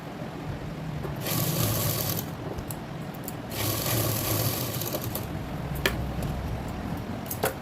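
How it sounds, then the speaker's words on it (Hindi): A sewing machine stitching an eye strip onto a blouse, a rapid close mechanical whir in two bursts separated by a short pause, then fainter handling clicks. "स्टिचिंग करूँगी हाफ इंच का गैप छोड़कर।"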